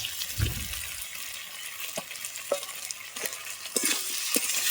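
Taro pieces are sautéed with ground ginger and cumin paste, making a low, continuous frying hiss broken by several spoon scrapes and taps against the pan.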